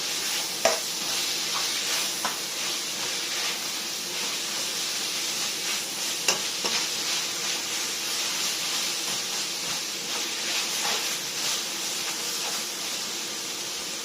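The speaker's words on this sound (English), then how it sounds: "So now we're going to go in with our noodles. Get that mixed in there as well." Noodles and vegetables stir-frying in a pan give a soft, continuous sizzle, with occasional clinks and scrapes of stirring breaking through at close range.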